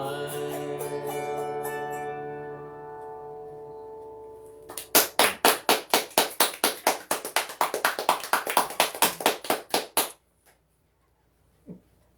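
Concert audience applause follows the final notes of a sung folk song: roughly five seconds of crisp, fairly regular clapping from a small crowd, starting as the music fades and then stopping abruptly, leaving near silence.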